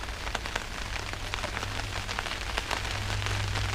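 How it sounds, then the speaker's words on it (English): Steady rain patters outdoors around a Caterpillar engine under repair, with broadband hiss, scattered drop impacts and a low wind rumble throughout. "I don't even like being out here right now with it raining"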